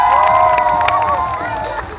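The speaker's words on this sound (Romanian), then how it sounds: "Aplauze!" Children at a costume show cheer and shout loudly together, a bright high-pitched crowd din of many young voices that stays strong and slowly eases off, with a few thin claps mixed in.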